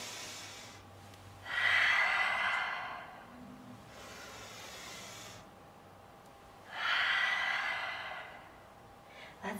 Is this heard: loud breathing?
yes